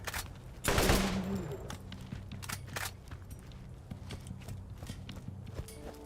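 Rifle gunfire in the video game Borderlands, a loud burst of shots near the start followed by repeated sharp reports and clattering game effects over a low steady background hum.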